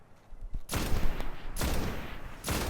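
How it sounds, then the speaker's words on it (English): Video game gunfire aimed into a cave, with sustained bursts of rapid shots and two short lulls between them, loud and close with no talking. "And what you do is you fire into this cave."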